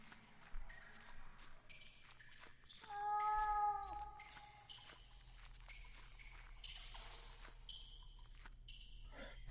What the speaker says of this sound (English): The cat seems to be behind this wall.